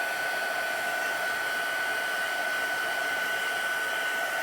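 A heat embossing gun blows hot air over embossing powder with a constant, loud whirring hiss and a thin steady whine, running close and unbroken with no voices.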